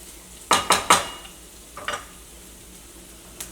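A spoon scraping and clinking in a pan while stirring a vegetable curry with green peas, three quick close strokes followed by a couple of softer ones and a faint final tap, over a low sizzle.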